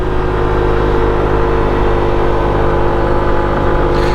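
A SYM Cruisym 125cc motorcycle engine holds full throttle on an open road, a loud steady drone with strong low harmonics and heavy wind rush, close and continuous with no voices.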